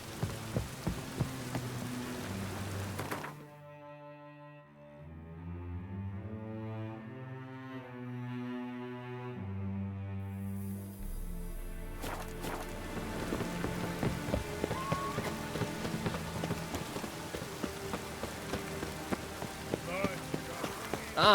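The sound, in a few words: rain in a video game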